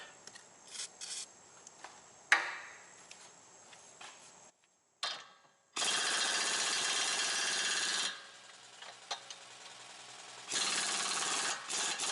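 A wire brush scrubs a rear upper control arm on a 2006 Chevy Malibu, in rough, steady rasping strokes. Bursts of several seconds alternate with short pauses, close and fairly loud, with no one talking.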